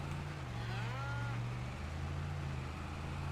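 Highland cattle in Farming Simulator 25 give a single drawn-out moo, fairly close and quiet, over a steady low engine drone from a farm vehicle.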